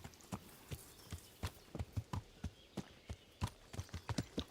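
Horse hooves clip-clop steadily in the medieval video game Kingdom Come: Deliverance, an even walking rhythm of crisp, close hoof strikes repeating throughout with no talk over them.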